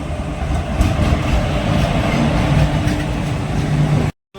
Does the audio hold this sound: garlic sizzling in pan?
no